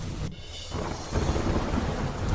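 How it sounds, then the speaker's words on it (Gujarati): A thunderclap rolls in during a heavy monsoon downpour under dark clouds, a deep rumbling crack that swells after a brief lull against steady rain noise. "કાળા ડિબાંગ વાદળો વચ્ચે કડાકા સાથે વીજળી પડતા લોકોમાં ચર્ચાનો વિષય બન્યો"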